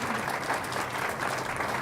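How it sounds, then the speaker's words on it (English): An audience at a media diversity symposium applauds panel participants, a steady, fairly faint patter of clapping with no voices over it. "let's give everybody a round of applause that participated on the panel"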